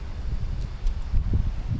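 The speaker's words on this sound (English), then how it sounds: "You wouldn't believe how windy it is up there." Gusty wind at altitude buffets the microphone in low, uneven rumbles, rising and falling in strong bursts over a faint rustle.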